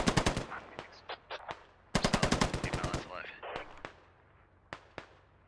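Medium machine gun fire in the military shooter game Squad, heard as loud, rapid bursts of automatic gunfire with sharp single shots in between, some near and some farther off, while faint voices talk.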